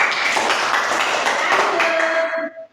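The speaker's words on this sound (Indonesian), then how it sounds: "Oke, tepuk tangan dulu." A classroom of students claps hands together in a brief, fairly loud burst of rhythmic clapping that stops abruptly, with a faint voice or tone emerging near the end.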